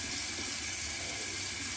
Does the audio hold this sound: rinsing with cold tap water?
yes